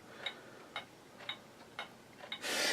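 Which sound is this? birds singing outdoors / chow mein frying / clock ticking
clock ticking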